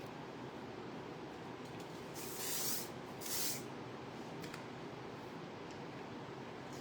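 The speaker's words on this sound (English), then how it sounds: "Hairspray." Hairspray misted onto styled hair in two short hissing bursts, close and bright, over a quiet steady background with no talking.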